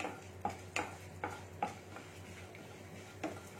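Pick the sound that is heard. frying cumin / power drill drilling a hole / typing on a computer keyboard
frying cumin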